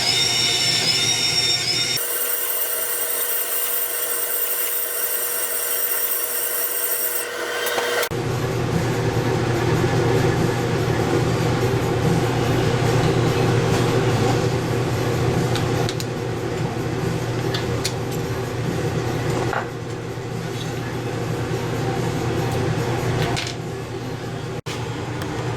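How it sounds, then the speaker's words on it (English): A grinder runs slowly to cut a stainless steel rod set into a knife handle, a continuous loud mechanical whine and grinding roar with a brief higher-pitched whirr near the start. "if you run the grinder real slow, it'll still cut in there"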